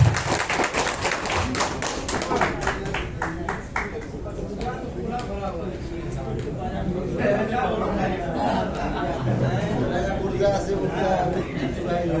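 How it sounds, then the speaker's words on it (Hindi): A crowd at a live stage event claps in a burst of applause for the first few seconds. The clapping thins out as a speaker starts talking and carries on over a murmuring room. "जोरदार तालियों से दोस्तों चमक"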